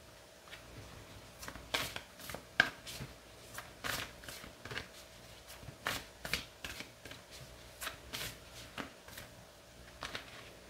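A deck of moonology oracle cards is shuffled by hand, with repeated quick riffling bursts and soft card slaps recurring irregularly over about ten seconds in a quiet room.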